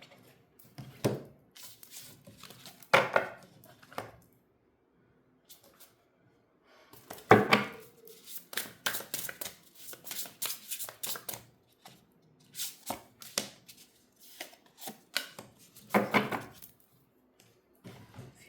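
Tarot cards, including gold-edged ones, are shuffled in scattered bursts of riffling and flapping, each a second or two long, separated by quiet gaps, close up and fairly soft.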